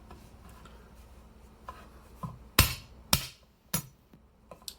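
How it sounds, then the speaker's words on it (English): Garlic is chopped with a Tsuji-hiki knife on a board, a few sharp, close knocks spaced about half a second apart after softer taps, with no talk. "I'm going to cut it with this Tsuji-hiki just to show you that you can do it without damaging the edge"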